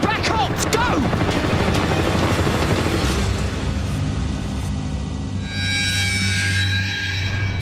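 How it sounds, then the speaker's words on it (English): A Black Hawk military helicopter's rotor thumps loudly overhead amid rushing wind and rumble, with voices and chaotic noise mixed in. "That is a military helicopter. In fact, it's a Black Hawk."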